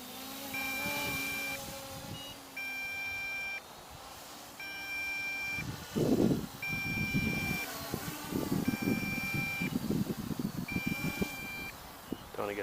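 MJX Bugs 6 brushless FPV drone sounding low-battery warnings in flight, a regular series of six evenly spaced two-tone beeps over steady motor and propeller hum, with wind noise outdoors.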